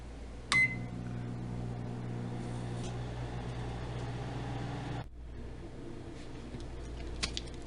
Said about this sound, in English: You need to put this in the microwave and put it for 30 seconds.